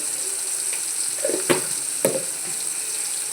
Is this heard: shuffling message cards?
no